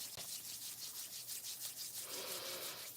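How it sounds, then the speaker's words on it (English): Palms rubbing together in a steady, soft friction sound with a quick rhythmic back-and-forth, close and quiet, with no talk. "Rub your hands together, awaken that energy."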